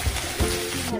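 Chopped onion frying in hot oil, a steady close sizzle with faint stirring bumps, no talk over it.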